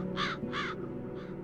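Crows in the video game The Dark Eye: Chains of Satinav give three harsh caws, two loud and close together, then a fainter one, over a steady low ambient drone.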